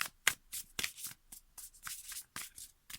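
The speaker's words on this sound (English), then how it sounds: "Let's give it another shuffle." Tarot cards being shuffled in quick riffling bursts, several short rounds with brief pauses between, close and fairly quiet.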